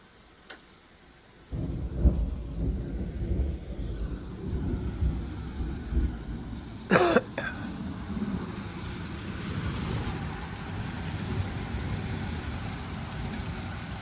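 A thunderstorm with steady, heavy rain starts abruptly and roars on, broken by a sharp, loud crack of thunder partway through and a few fainter rumbles, with no one talking.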